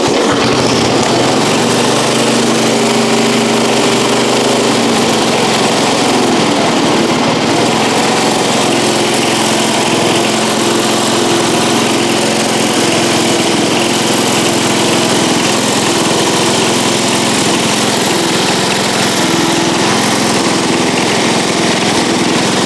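A lawn mower engine runs steadily and loudly throughout, a continuous high-pitched droning idle with no talk over it.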